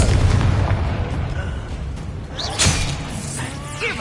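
The Confringo explosive spell in the Hogwarts Legacy game goes off in booming blasts with bright crackling bursts, set against a busy combat soundscape and loud throughout.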